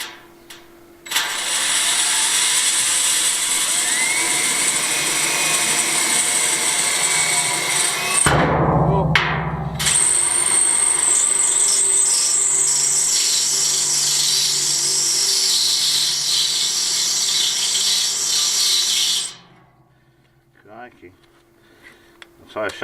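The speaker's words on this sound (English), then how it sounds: "I'm just going to drill through the bath and then screw the legs to it." A power drill whines loudly and steadily as it drills through a bathtub, briefly stopping and restarting, then grinding on at length before cutting out.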